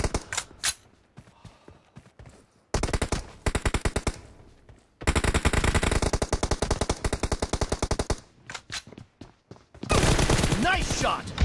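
Rapid automatic gunfire from a video game shooter comes in loud, dense bursts separated by quieter gaps holding scattered single shots and clicks.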